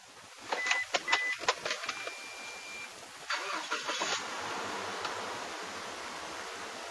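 A 2012 Toyota Fortuner TRD petrol engine, with over 100,000 km, cranks after a few faint clicks and catches into a quiet, steady idle hum nearby, with no speech.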